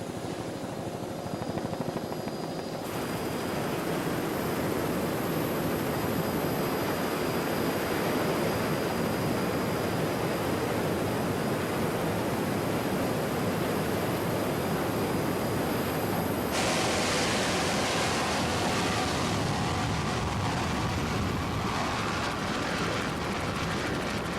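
Offshore racing powerboats roar past at the 1988 Offshore Grand Prix in Atlantic City, New Jersey, with the PTM Express overtaking a smaller boat: a loud, continuous engine and hull-spray roar that holds steady, then shifts in tone partway through.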